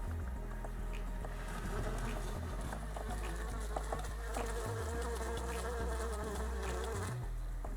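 Honey bees buzzing around a hive, a dense steady drone of many wings close by, with individual bees whining past, continuous and fairly faint, with a low rumble underneath.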